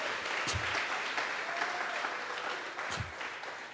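A church congregation applauding during a Spanish-language healing service, a steady wash of clapping that holds throughout, with a couple of brief low thumps.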